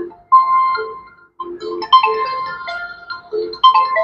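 An incoming phone call rings with a Truecaller caller announcement: a loud, close electronic melody of bright tones in short phrases, with a brief pause near the start and no other sounds.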